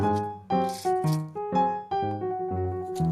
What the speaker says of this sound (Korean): 그래서 다양한 색상의 파스텔 비즈들을 넣어줬어요